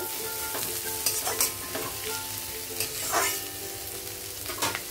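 Long-sliced capsicum and green chilli stir-fried in a pan for noodles, a bright continuous sizzle with regular spatula scrapes and taps, close and fairly loud throughout.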